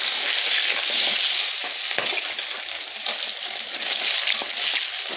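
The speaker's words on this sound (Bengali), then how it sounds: "বাকি মাছগুলো ভাজা হোক।" Tilapia fish frying in hot oil in a home kitchen, a loud continuous sizzle and crackle close by, with occasional stirring clinks and no talk.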